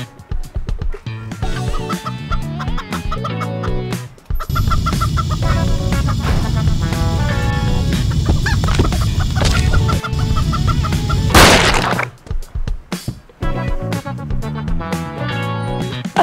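Chickens cluck and squawk on a bird level of the video game Turbo Dismount, with loud repeated cackles and crashing game effects layered over music in a busy, steady mix, no talk heard.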